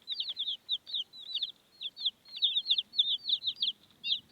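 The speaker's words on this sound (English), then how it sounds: "So today I have 50 chickens." Backyard flock of about fifty chickens clucking steadily in quick overlapping bursts, close and fairly loud, with no talking.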